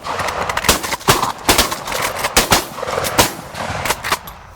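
Hunters' shotguns firing at birds coming in low over decoys, a rapid volley of loud close blasts spread across a few seconds, some shots overlapping, outdoors in Maryland.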